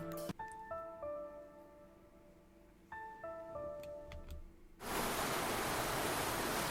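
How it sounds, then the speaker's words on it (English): Water pouring down a waterfall inside a cave: soft tonal music plays at first, then a loud, dense, steady rush of falling water cuts in abruptly for the final two seconds. "The sounds of falling water echoes around me."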